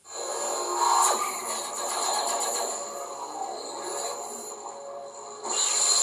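A neopixel lightsaber, a Saberspro Taron Malicos replica, ignites into a steady electric hum with humming buzz and swelling surges near the start and again near the end, loud and close with no voices.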